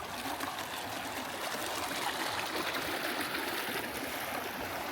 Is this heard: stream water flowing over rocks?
yes